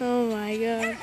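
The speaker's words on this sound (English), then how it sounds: "That was a dog chasing it," A dog chasing a model flying-wing plane outdoors gives a single drawn-out, whining yelp close by, and a person's brief exclamation overlaps it.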